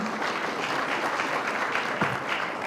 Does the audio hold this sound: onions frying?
no